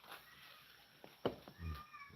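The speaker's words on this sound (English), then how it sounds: "The cat's hollering for me." A cat calling out indoors, a few short, faint meows with quiet room noise between them.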